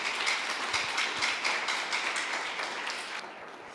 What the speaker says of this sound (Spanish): Vamos a darle un fuerte aplauso al Señor, el más fuerte que lo puedas tú dar